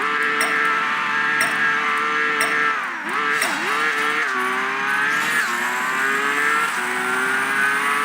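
Lamborghini race car engine in the Apex Racer video game roars steadily at high revs, its pitch shifting up and down through gear changes and dipping briefly midway, loud and close with no talk over it.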